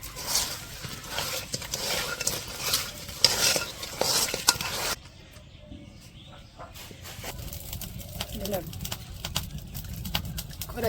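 Oil sizzles and crackles in a wok over a village stove, mixed with stirring and clinks of metal. There is a brief quieter stretch in the middle, and voices talk over the cooking.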